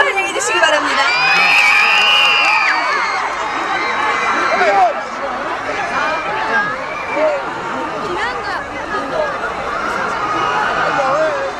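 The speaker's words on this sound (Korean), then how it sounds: "여러분 큰 박수로 환영해 주시기 바랍니다" A concert crowd welcomes a national singer to the stage with a steady wash of cheering, whoops and shouting voices. The sound is loud and sustained, then eases slightly but continues throughout.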